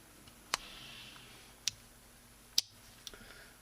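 A Northfield slipjoint pocketknife with a secondary Wharncliffe blade snapping open and closed, giving a few sharp, crisp metallic clicks spaced apart in a quiet room.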